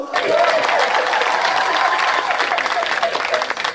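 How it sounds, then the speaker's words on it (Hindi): Audience at a live Hindi comedy show clapping in a steady, dense burst for nearly four seconds, with voices and a few shouts mixed into the applause. "ताली बजाओ, ताली बजाओ"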